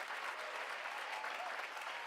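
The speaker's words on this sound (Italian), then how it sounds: "fate un applauso a Pietro." Steady, dense applause from a crowd fills the whole stretch, a continuous wash of clapping with no pauses and no other sounds standing out.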